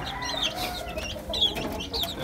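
Young Sweater gamefowl hens cluck softly at close range, short repeated calls scattered over a low farmyard background.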